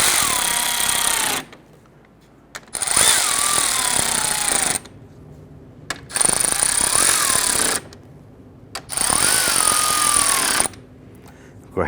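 Three long bursts from a power driver tightening the grille screws on a 1999-2004 Jeep Grand Cherokee, each whine rising and falling in pitch, loud and close, with short pauses between them and no speech.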